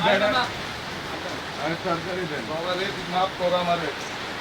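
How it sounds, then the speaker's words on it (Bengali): Heavy rain falls in Rupnagar, Mirpur, Dhaka: a steady broadband wash of downpour runs the whole time beneath nearby conversation, with voices talking over it. "এই মুহূর্তে বৃষ্টি শুরু হয়ে গেছে প্রচুর"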